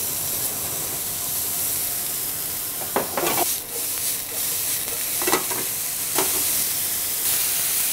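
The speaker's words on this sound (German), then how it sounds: "In der Zwischenzeit können wir unseren Speck und unsere Zwiebeln anbraten." Bacon and onions fry in a pan, a steady close sizzle and hiss running throughout, broken by a few louder crackles and stirring scrapes.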